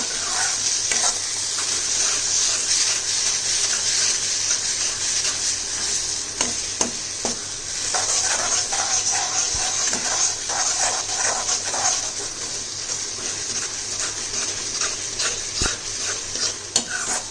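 Grated coconut being stirred into a frying mixture in a pan, a continuous sizzle with repeated scraping strokes of a spoon, close and steady, with a dog faintly whimpering in the background.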